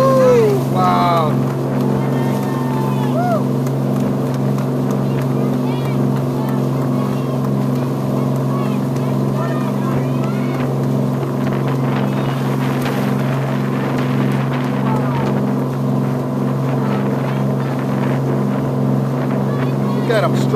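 Motorboat cruising off Florida with dolphins racing alongside: a steady, loud engine drone with a throbbing hum under wind noise, while people cheer, clap and talk over it.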